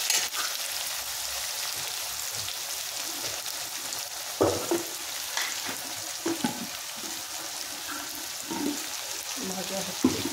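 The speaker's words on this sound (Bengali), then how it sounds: "ভাজা হচ্ছে" Onions and spice paste frying in a pan for a country chicken curry, a soft continuous sizzle broken by several clattering stirs and scrapes, close by with some faint background voice.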